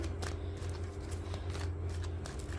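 Tarot cards being shuffled by hand in quick repeated riffles and slides, close and fairly loud over a constant low hum.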